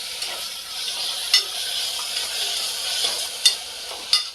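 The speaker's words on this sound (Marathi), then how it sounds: "आता हा आपण बारीक चिरून घेतलेला कांदा जो आहे तो टाकून घेऊ आणि या कांद्याला आपल्याला छान तांबूसर रंग येईपर्यंत शिजू द्यायचं आहे" Finely chopped onion fries in oil in a pan, making a soft continuous sizzle broken by a few sharp clicks of a spoon stirring, with no talking.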